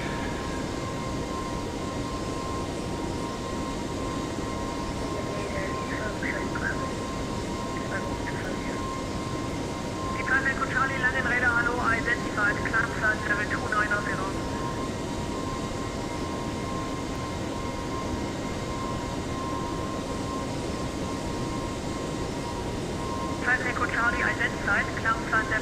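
Airbus A320neo engines hold a steady climb-thrust roar in the X-Plane 11 simulator cockpit, continuous and even, with short cockpit chimes and a voice talking over it.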